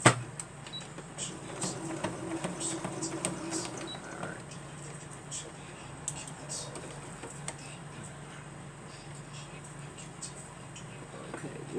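A sewing machine stitches a fabric mitten potholder in fast, rattling mechanical ticks, with short pauses and starts as the fabric is lifted and tacked. The sound is fairly close and steady.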